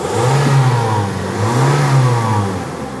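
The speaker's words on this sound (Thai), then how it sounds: "นะเล่นเครื่องให้ดูเดี๋ยวไม่เชื่อ" A 2011 Toyota Yaris 1.5E running on LPG revs up twice while parked, each rise swelling and then easing back toward idle. The engine is close and loud, with no talking.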